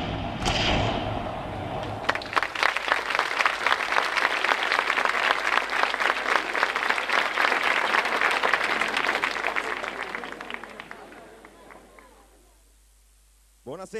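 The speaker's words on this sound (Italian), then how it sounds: "un altro applauso al balletto di Delia Fitness di Ilaria Foti, un altro applauso, grazie mille." Sustained audience applause for a ballet performance at an outdoor music festival in Delianuova, a dense wash of many hands clapping that swells after a brief voice, holds steady, then fades out to near silence.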